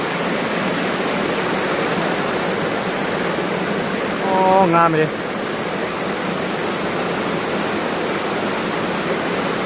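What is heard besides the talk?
waterfall flowing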